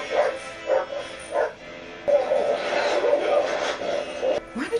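Dogs bark in short bursts close by, then keep barking beneath louder scene noise with voices talking.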